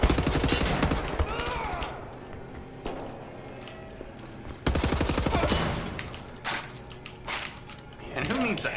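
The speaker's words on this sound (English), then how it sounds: "Shooting folks who can't defend themselves." Repeated bursts of gunfire from the first-person shooter Wolfenstein: The New Order, loud and close, with rapid volleys and single shots spread across the span over a busy game soundscape.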